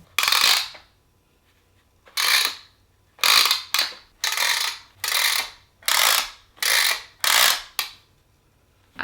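Cranking mechanism of a Crayola sticker maker craft kit, giving a run of about nine loud, harsh ratcheting bursts in uneven rhythm, each a gritty clicking rasp separated by short pauses, close and alone without speech.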